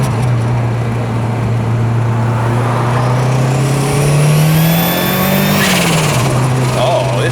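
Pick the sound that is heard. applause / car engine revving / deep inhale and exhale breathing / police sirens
car engine revving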